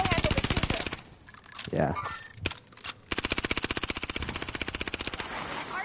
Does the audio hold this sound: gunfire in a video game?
yes